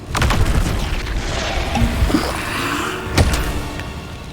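An Incendio fire spell blast in Hogwarts Legacy, heard as a heavy booming whoosh with rumbling low end, a few sharper pops and a distinct burst near the end, loud and without talk.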